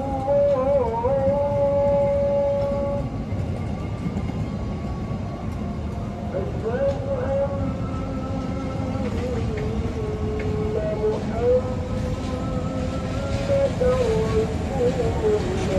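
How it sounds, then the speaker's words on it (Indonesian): A train locomotive rumbles steadily nearby at a station in Indonesia, its low drone joined by tonal horn- or engine-like whines that rise and fall, with a voice faintly underneath. "ini lokomotifnya"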